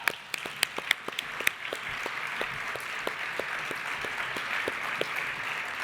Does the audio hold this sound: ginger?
no